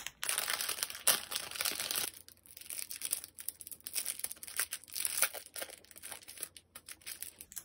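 Plastic sleeves for photocards in a binder crinkle and rustle as they are handled up close, irregular crisp crackling bursts that come and go without pause.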